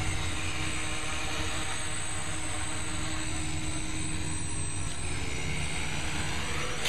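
A tri-copter multirotor flies at a model airfield, its spinning rotors giving a steady, fairly faint buzzing whine that holds constant the whole time, with no talk over it.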